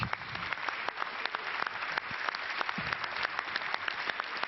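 Sustained applause from senators fills a large chamber, a dense, even patter of many hands that holds steady throughout at a moderate distance and drowns out any speaking.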